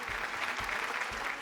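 A studio audience on a Malayalam TV game show claps for a contestant's friends, a steady burst of applause lasting the whole moment with no talking over it.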